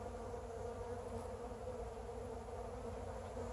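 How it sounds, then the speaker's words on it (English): Bees buzzing around a hive entrance in a bee yard, fighting over food, a soft, steady, continuous hum with no pauses or talk. "bees were coming in and out of the entrance, but they were actually fighting as if this was their hive"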